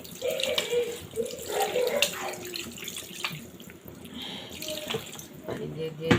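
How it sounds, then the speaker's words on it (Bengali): Water runs and splashes as it is poured into a pot of duck meat curry, a steady close-up gush with some clinks and faint talk in the background. "এখন আমি পরিমাণ মতো পানি দিয়ে দিব সিদ্ধ হওয়ার জন্য।"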